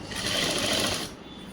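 A sewing machine stitching a curved seam on a school uniform chudi top, whirring in one fast, dense run up close before slowing to a stop.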